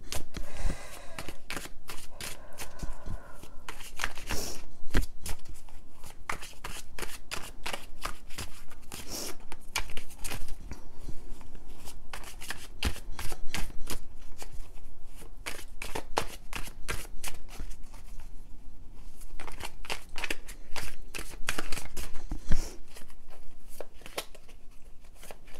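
Tarot cards being shuffled and pulled from a Twin Flame Journey deck, a long run of dense, crisp riffling and slapping close by, steady for nearly half a minute with occasional louder snaps.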